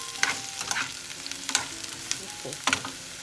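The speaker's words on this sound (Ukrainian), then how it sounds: "Наші баклажани перемішаємо разом з цибулькою" Fried aubergines and onion are stirred in a hot pan: a continuous close sizzle broken by scraping, clattering stirring strokes at irregular intervals.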